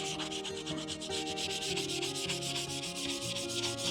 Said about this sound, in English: sand this edge so you don't cut yourself on it